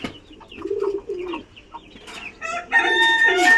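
Desi chickens on a farm, clucking and calling in short bursts close by, with a rooster-like crow and other bird calls building toward the end.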